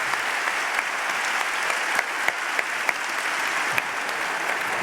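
Steady applause from a crowd, dense and continuous clapping with a few sharper claps standing out, no talking.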